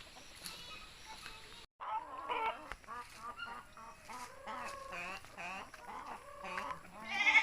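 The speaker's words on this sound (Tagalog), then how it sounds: "Ang lalaki ng aming mga alagang manok." Free-range chickens on a farm cluck and squawk in short, irregular calls, fairly close, with a sharp cry or two rising near the end and no clear talking.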